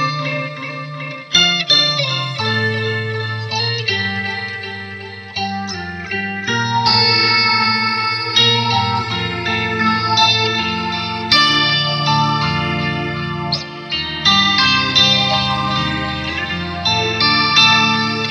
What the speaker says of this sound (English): Some delay, as well as I put the phaser on too. And let's turn up this reverb. I've even got the shimmer on this reverb.